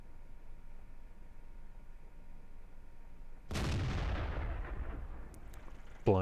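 A single heavy tank-gun blast from a World of Tanks SU-85 tank destroyer fired blind, a sudden loud boom with a long rumbling decay over steady background hum, followed by a second sharp report at the end.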